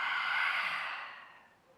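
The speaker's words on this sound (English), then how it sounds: "Open the mouth, exhale it out." A single breath exhaled through an open mouth during a yoga flow, a soft airy sigh that starts fairly strong and tapers away over under two seconds, close and alone.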